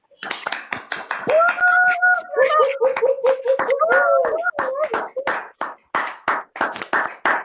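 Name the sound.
comedy club audience applause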